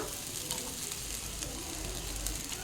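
Cooked basmati rice sizzles in a hot pan for fried rice, a steady close hiss with faint stirring underneath.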